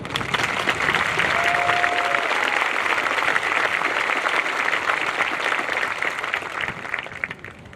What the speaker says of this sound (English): I think that does deserve a round of applause.